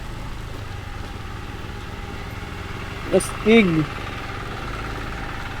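A motorcycle engine idles with a steady low rumble throughout, and a voice briefly speaks over it partway through.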